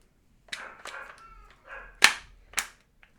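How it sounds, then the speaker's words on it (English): A KJW KC02 airsoft pistol fires and cycles: a few sharp clicks and mechanical clacks, one crisp louder snap, then another shorter crack, close and isolated in an otherwise quiet room. "fire it one time so you guys can see what it's like"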